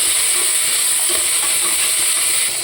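Chopped tomatoes are stirred into onions frying for chicken biryani, giving a loud, dense, continuous sizzle and hiss that stays nearly constant throughout, with faint stirring scrapes and no speech.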